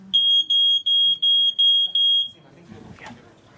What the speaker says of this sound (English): he's going to demonstrate what a fire detector sounds like